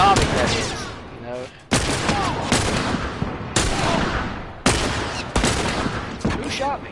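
Gunfire in The Last of Us, several loud close bursts of shots separated by brief lulls, each sharp onset trailing off into echoing decay, with a voice faintly underneath.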